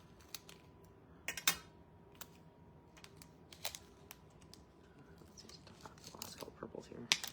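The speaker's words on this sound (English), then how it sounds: "Just cut the little corner here." Scissors snipping the corner off a plastic Diamond Dotz bead packet, a few quiet, close crisp cuts and crinkles at a craft table.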